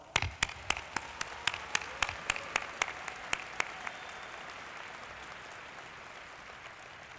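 Stadium graduation crowd applauds teachers, administrators and parents; a few sharp nearby claps ring out first over a distant wash of clapping that fades away.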